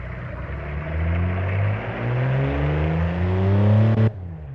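Simulated 1960 Corvair engine in the car-building game Automation, revving steadily upward through a loud harmonic drone before cutting off abruptly near the end, heard alone without talk.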